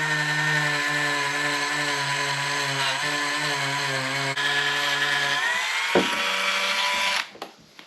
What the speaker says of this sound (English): I'm gonna put just a little bit of this polishing compound on here and then go over it with the Dremel.